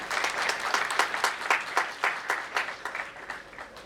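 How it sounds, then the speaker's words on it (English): Audience applause at a memorial lecture, a crowd clapping in a moderately loud, fairly rhythmic patter that softens gradually over a few seconds. "A big round of applause."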